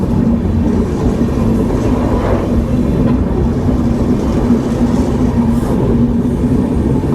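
Uttar Sampark Kranti express train running on the rails toward Katra, heard from inside a 3AC coach as a loud, continuous rumble with rhythmic rolling and clattering of wheels on track.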